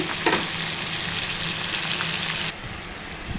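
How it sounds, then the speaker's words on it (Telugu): Chopped green chilies fry in a pan for a chana dal curry, a dense, steady sizzle and crackle close by that drops slightly in level near the end. "పచ్చిమిర్చి ముక్కలు కొంచెం మగ్గాలండి నిమిషము మగ్గాలి"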